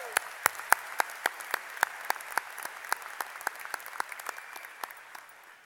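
Sparse, distinct claps ring out from an audience at a 2018 American University business school commencement ceremony. A few sharp handclaps repeat at a quick pace over a faint crowd bed, fading toward the end.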